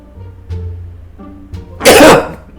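One sharp, loud sneeze bursts out close to the microphone after a moment of quiet breathing and faint background hum.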